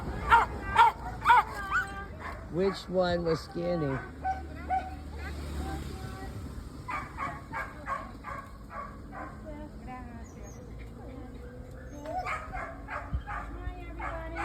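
Rescue dogs on the island of Roatan yip and bark in short bursts, with whimpering in between, near and mid-distance, while people talk over and around them.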